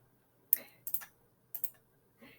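A computer keyboard pressed for a select-all shortcut: a few sharp, close key clicks in small pairs separated by short pauses, quiet with no talking.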